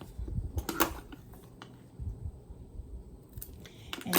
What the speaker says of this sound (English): I'm going to grab a piece of elastic. And I am going to cut it, let's cut it 7 inches long.